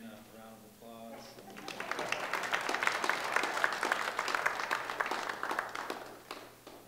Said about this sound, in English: everyone give Savannah a round of applause